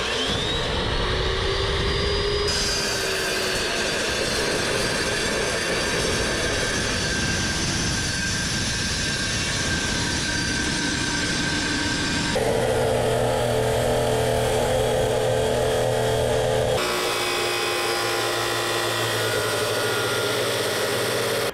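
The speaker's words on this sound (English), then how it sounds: "we have to cut a lot of metal, and thick metal" A cutoff wheel slices through thick metal stock for bunker elevator shaft supports, giving a loud, continuous abrasive roar with shifting whining tones that changes character several times across the cut.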